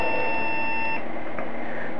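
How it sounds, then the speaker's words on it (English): A computer on a LAN rig gives an error beep at startup: one steady electronic tone lasting about a second, close and clear, then it cuts off and leaves faint hum. "That's an error beep."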